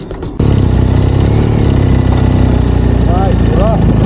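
A big adventure motorcycle with a Jekyll and Hyde exhaust valve idles loud and close, a steady throbbing engine drone that stays constant throughout, heard outdoors before an off-road ride in the Peaks.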